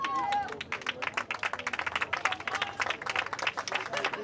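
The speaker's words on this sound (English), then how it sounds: "Applause from the audience here" Spectators clap at a boys high school soccer match between MKA and Newark Academy, a scattered, moderately quiet patter of hands with crowd murmur and some talking mixed in.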